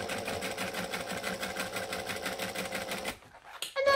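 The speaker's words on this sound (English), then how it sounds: "So then I'm going to top stitch." Sewing machine running steadily at close range to top stitch a crossbody carrier bag with a drop-in lining, a fast even whir of the needle for about three seconds before stopping, followed by faint handling sounds.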